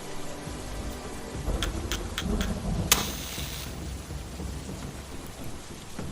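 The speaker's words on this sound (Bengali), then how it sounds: "বলতে বলতেই হঠাৎ বাজ পড়ল" A thunder and rain sound effect: steady rain patters throughout, broken by a sharp, loud thunder crack about halfway through that rumbles off under the continuing downpour.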